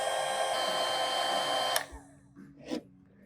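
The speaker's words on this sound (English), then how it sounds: "You just put it in there and it'll shrink the wire" A heat gun shrinking heat shrink tubing on a car stereo wire, a steady close blowing whir that switches off abruptly, followed by faint handling clicks.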